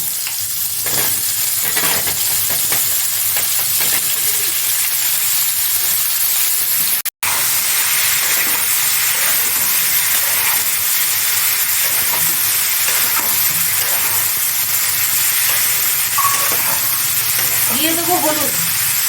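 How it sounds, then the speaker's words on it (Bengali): Pieces of bottle gourd hit hot oil and set off a loud, steady sizzle and crackle that lasts throughout, with a brief break partway and faint clinks of stirring. "তারপর আমি তেলের উপরে লাউ দিয়ে দেবো।"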